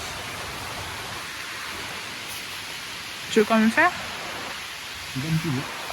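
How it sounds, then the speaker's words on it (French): Steady rain hissing down during a hike on a muddy trail, a constant wash of noise with a woman's brief spoken question and faint murmuring over it. "Mais il s'est mis à pleuvoir."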